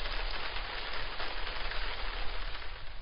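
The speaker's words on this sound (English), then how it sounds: "During a rainstorm, rain falls on your roof and collects in gutters." Steady rain patters on a roof during a rainstorm, a dense, even wash of drops that continues without a break and stays fairly soft.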